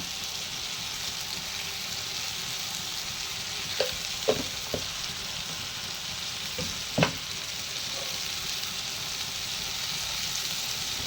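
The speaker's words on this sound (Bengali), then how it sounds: "এই মশলাটাকে খুব ভালো মতন কষাবো" Spices for a duck curry sizzle steadily in a hot pan, a constant close frying hiss broken by a few sharp clinks and scrapes of a stirring utensil.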